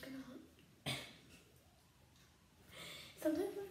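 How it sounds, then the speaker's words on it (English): A single sharp cough cuts in briefly, followed later by a second throat-clearing burst, with quiet breathy pauses between. "Sometimes when I wash my face, I cough"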